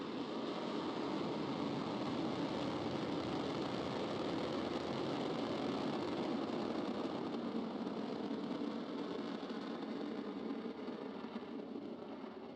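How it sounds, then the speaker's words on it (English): SpaceX Falcon 9 rocket engines after liftoff on a Starlink launch: a steady, distant broadband roar with a faint crackling texture, continuous and even throughout and fading very slightly at the end. "Falcon 9 has cleared the tower"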